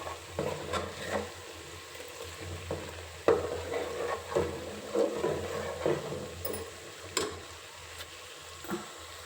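Butter simmers into ghee in a pan, a quiet, continuous bubbling sizzle with soft periodic stirring strokes heard up close.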